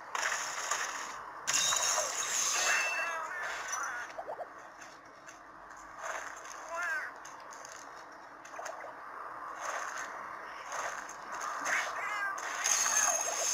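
Cat companions in Monster Hunter X Generations on the Nintendo 3DS give several short meows spread across the stretch, mixed with mechanical clicking and ratcheting game effects, with no talking over them.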